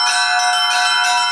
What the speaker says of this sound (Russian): Ровно в полночь звон колоколов храма Владимирской иконы Божией Матери оповестил Углегорск о наступлении Рождества